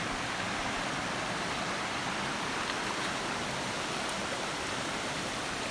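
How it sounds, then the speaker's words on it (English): Steele's Creek rushes steadily over rocks at a trail crossing, a constant broadband wash of flowing water with no voices. "All right, one final crossing here of Steele's Creek."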